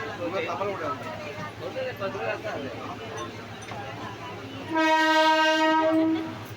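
A train rumbles past near Tilak Nagar station, Mumbai, with mixed background noise, then a loud, sustained horn blast sounds near the end before fading.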